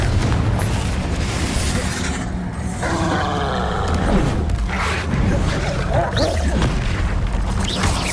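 The Confringo spell in the game Hogwarts Legacy bursts into loud, booming explosions with rumbling crashes and debris, dense and continuous, while a voice shouts over the blasts.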